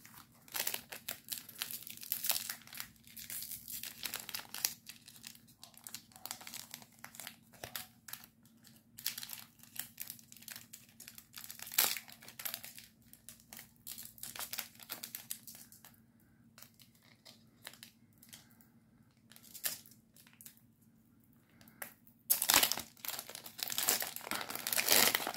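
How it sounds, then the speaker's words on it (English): A Magic card collector booster sampler pack wrapper being torn open and crinkled by hand, close and irregular, with bursts of crackling plastic separated by quieter pauses and a louder rustle near the end. "So let's open this one first and see what we'll get."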